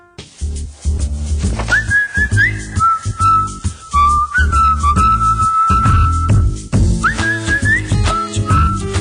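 A bright, melodic whistled tune runs over a thumping musical backing in a TV advertisement jingle for accounting software, loud and continuous.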